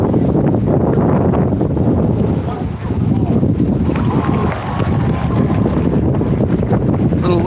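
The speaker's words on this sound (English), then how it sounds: "It's a little windy out here today" Wind buffets a microphone outdoors, a loud continuous low rumble with gusty surges and a short dip partway through, with faint voices under it.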